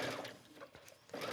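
A sewing machine stitches down a skirt seam after a back stitch, its needle running in a steady rapid whir at close range but at low volume.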